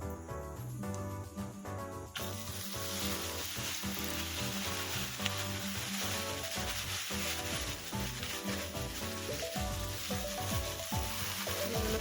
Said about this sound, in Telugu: ఇప్పుడైతే ఈ మునగాకుని ఇందులో వేసుకుందాం